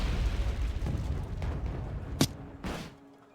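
Artillery explosions boom in the video game Wargame: Red Dragon, a rumbling series of blasts capped by two sharp, bright bursts near the end before fading.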